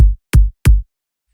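Default FL Studio kick sample with a reduced sampler multiplicator, set to E3 mono: three short punchy kick hits at an even pace, each a bright click dropping into a deep thump, dry and isolated.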